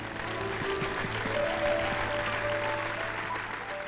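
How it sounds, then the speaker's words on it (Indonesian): A studio audience on an Indonesian dangdut game show claps in sustained, dense applause that stays fairly even from start to finish, with no voices above it. "ayo bersama saya di sini boleh tepuk tangan untuk Citra"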